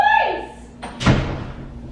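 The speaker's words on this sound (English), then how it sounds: "I just closed the wrong door." A door swings shut with a solid thud in a room, one loud close impact following a person's voice, then fading ambience.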